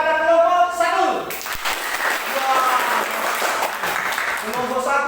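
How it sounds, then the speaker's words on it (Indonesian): Classroom audience applauding a student discussion group, a steady burst of clapping that follows a voice speaking at the start and fades as talking resumes. "Berikan tepuk tangan kepada kelompok 1."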